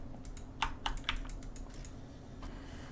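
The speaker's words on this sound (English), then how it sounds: "You guys can hear me clicking away" Keyboard keys clack while someone plays the online game Project Gorgon, several crisp, close taps in an uneven burst followed by softer scattered presses over faint background hum.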